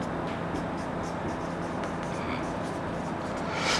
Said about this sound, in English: So let me write one example here